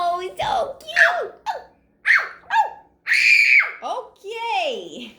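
A person imitates a puppy with a string of close, high yelping barks and whiny squeals, some stretched into screechy howls, separated by short gaps.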